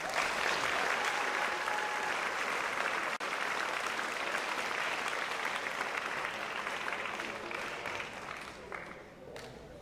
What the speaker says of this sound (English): Please give a round of applause to these cadets.